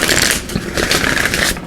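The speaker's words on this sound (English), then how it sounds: "We're going to give these a shuffle." Tarot cards are shuffled briskly by hand, a dense run of riffling, papery flutters in a few quick bursts, close and clear with no talking.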